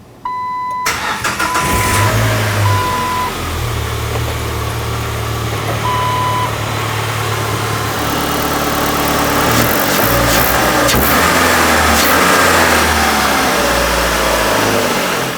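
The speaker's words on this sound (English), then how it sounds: "Now let's start up the engine, make sure everything is running as it should" A 1997-2006 Jeep Wrangler's 2.4L four-cylinder cranks and catches, then settles into a loud, steady idle close by, with a brief warning chime early on and a slight rise in revs later.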